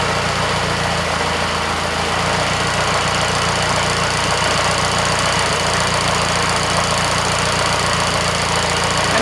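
An Austin Seven car engine runs continuously, loud and close, with a steady rough mechanical drone and a fast rattling rhythm.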